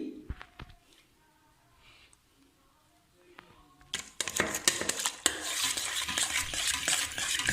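Homemade herbal shampoo base is stirred and mixed in a vessel, beginning with a few faint clinks and then turning into loud, busy scraping and swirling strokes close by.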